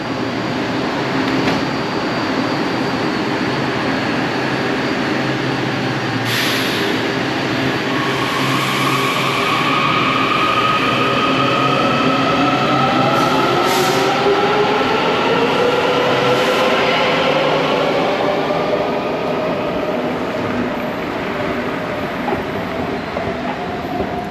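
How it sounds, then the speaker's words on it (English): A Washington Metro Silver Line train rumbles steadily at Greensboro Station platform, with a rising electric motor whine and rhythmic clatter of wheels. No voices. "The Silver Line train to Ashburn was boarded."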